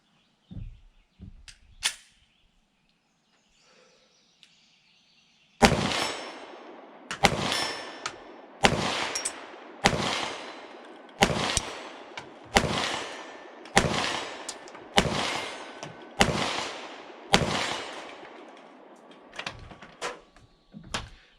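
A PSA 5.7 Rock 5.7x28mm pistol fired at a steel plate sixty away: after a quiet start, about twelve loud, evenly spaced shots, each followed by a brief ringing decay, with no talking.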